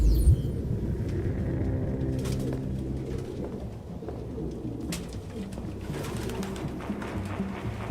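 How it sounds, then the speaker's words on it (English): Pigeons cooing inside a grimy apartment in the Detroit: Become Human video game, a close cluster of soft repeated coos over a low rumbling background, no speech. "No human could live with all these fucking pigeons."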